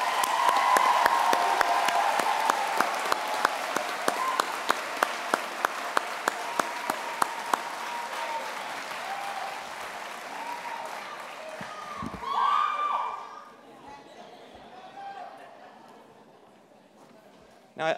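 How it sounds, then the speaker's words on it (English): A large crowd at a graduation ceremony claps and cheers in sustained applause that gradually fades away, with a few voices rising briefly near the end. "give yourselves another big round of applause."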